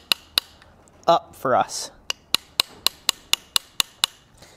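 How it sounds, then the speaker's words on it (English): A hammer drives a chisel into a groove in hot steel while a bottle opener is forged: two ringing strikes, a brief spoken phrase, then a steady run of about ten sharp, evenly spaced metallic blows. "we're gonna hammer down into this."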